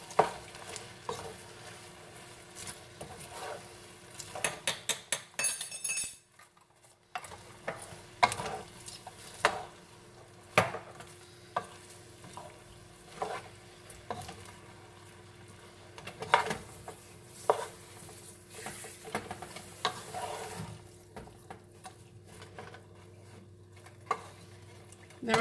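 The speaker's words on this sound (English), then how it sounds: "And then I'm just going to stir this in." About two teaspoons of garlic are stirred into a hot pan for a family dinner. Irregular scraping strokes of a utensil against the pan sit over a low, steady sizzle, close by, with no talking.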